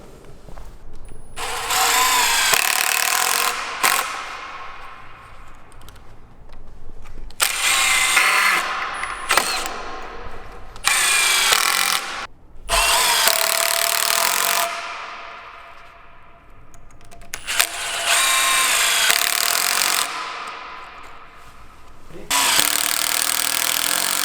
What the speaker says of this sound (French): Nous allons visser ces bois qui sont fournis avec, qui sont déjà mis à la longueur.